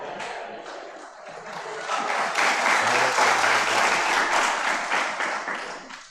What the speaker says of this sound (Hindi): किसके लिए ताली बजा रहे हैं?